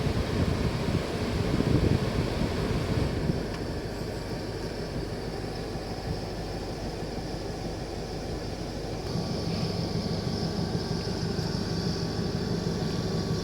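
A strong, steady rush of blowing air from the air conditioner fan of a Nissan NV350 van, loud and continuous throughout, with a slight drop in intensity partway through.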